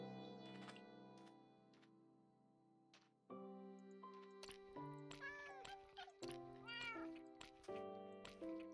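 A cat meows repeatedly in the block-building game Minecraft, version 1.14.2, during exploration. The short, bright mews come several times in its second half over soft, steady background music.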